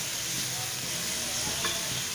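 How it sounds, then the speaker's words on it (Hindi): Chilli garlic noodles stir-fried in a pan over a medium flame give a steady, close sizzle with faint stirring scrapes, and no voice is heard. "अब हम इनको स्टर फ्राई करेंगे"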